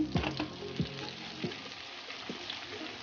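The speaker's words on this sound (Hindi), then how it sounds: "बटर मेल्ट होता है तो इसमें हम चिकन ऐड कर देंगे।" Chicken frying in melted butter, a low steady sizzle with a few sharp spatula scrapes and stirs near the start, fading slightly, no voices.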